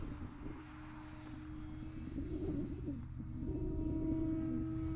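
E-flite Carbon Z Cub RC airplane flying in a northeast wind, its electric motor giving a steady, moderately distant drone that swells slightly near the end while birds coo faintly in the background.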